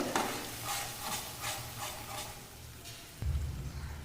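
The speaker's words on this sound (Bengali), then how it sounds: "এবারে আমি এটা খুব ভালোভাবে কষিয়ে নেব।" Spices for paneer pasanda are stirred and fried in a pan, with repeated scraping strokes of a spatula over a soft sizzle and a louder clunk near the end.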